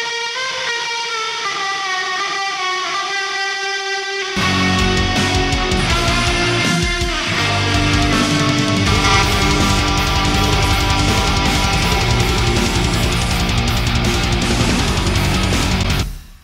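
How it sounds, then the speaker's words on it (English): A clean guitar line through the Audio Assault Bulldozer amp simulator's reverb pedal rings out with a long reverberant tail, then a loud, dense full-band passage kicks in and sustains to the end. "I loved being able to mess around with this reverb pedal here"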